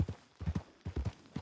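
A horse's hooves clip-clop in Red Dead Redemption, a steady rhythmic trot of close, crisp hoof strikes in quick pairs, heard alone and fairly faint.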